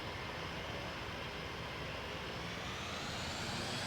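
British Airways airliner jet engines at takeoff in a flight simulator game roar as a steady broadband rush, slowly building with a faint rising whine, moderately loud and with no talk.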